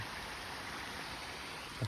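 Pond waterfall fed by a 6,500 gallon per hour pump, a steady, fairly faint broadband rush of falling water with no voices over it.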